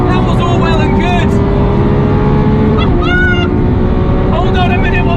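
Lamborghini Aventador SVJ on a race track, its engine a loud, steady droning whine running throughout while someone talks over it.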